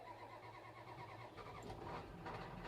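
A pickup truck engine in Farming Simulator 22 turns over and settles into a low, steady idle rumble, with no talking over it.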